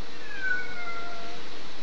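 A young girl imitates a cat's meow with her voice, one short, thin, high-pitched call that is clear but fairly soft, with no other talk around it.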